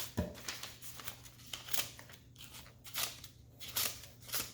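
Scissors snip paper at home in a quick, uneven series of small, crisp cuts, close and quiet, with no talking.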